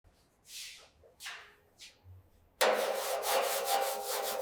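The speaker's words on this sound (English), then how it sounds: "Active rust removal has now begun." Rust removal on the body of a 1966 Land Rover: a steady, loud abrasive scraping and grinding rasp starts abruptly and runs continuously, after several shorter, softer scraping strokes separated by pauses.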